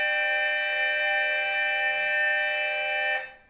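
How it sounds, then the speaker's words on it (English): A school-style electronic bell rings loudly and continuously for about three seconds, a bright steady tone that cuts off abruptly. "I want you to just feel like you're at school, so you get to hear the bell at the same time."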